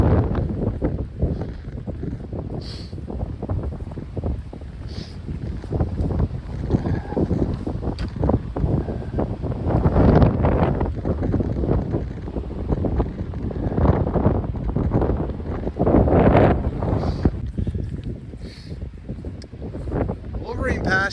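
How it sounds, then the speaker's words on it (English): Strong wind gusting through Wolverine Pass on a mountain hiking trail, a heavy, continuous buffeting roar against the microphone with surges and lulls, while a hiker talks over it at times. "Bunch of wind coming through Wolverine Pass"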